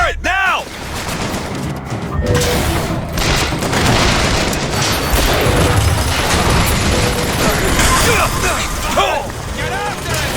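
Turret gunfire rattles in a dense, continuous burst during a BioShock Infinite firefight, mixed with heavy booms and battle noise. It stays loud throughout.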